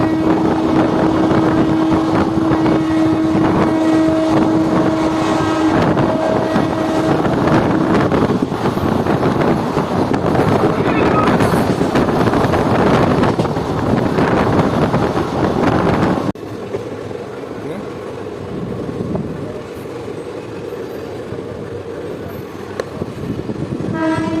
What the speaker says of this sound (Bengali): আমাদের ট্রেন এখন ফ্ল্যাট 110 স্পিডে ক্রসিং করছে স্টেশন কুমড়াবাদ রোহিণী রেলওয়ে স্টেশন